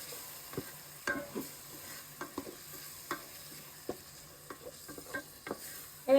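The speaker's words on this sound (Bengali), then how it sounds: "এখন আমরা দিয়ে দিচ্ছি টমেটো" Chopped tomatoes are stirred in a frying pan for yakhni biryani, with a soft, constant sizzle under irregular scraping strokes of the spoon against the pan, close up and with no voices.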